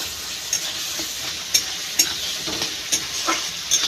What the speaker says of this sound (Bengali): আদা জিরে দিয়ে ভালো করে আবার কষিয়ে নেব।